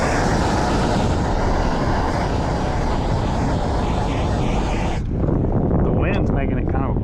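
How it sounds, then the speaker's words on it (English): Heavy wind buffets the microphone outdoors during a brick wall wrap installation, a loud continuous roar across the whole stretch that eases briefly near the end while a person talks. "The wind's making it kind of a pain."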